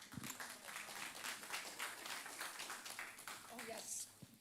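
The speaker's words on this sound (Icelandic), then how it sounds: "Gefum Callum gott klapp" A church congregation applauds, with sustained, dense clapping from many hands over several seconds in a reverberant hall, a voice briefly heard over it.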